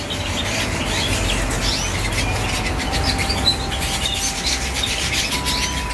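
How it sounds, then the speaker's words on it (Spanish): Bird chirps and tweets come through under a constant rubbing, rasping noise, fairly loud and steady throughout, with no one talking. "Buenos pájaros ven por aquí"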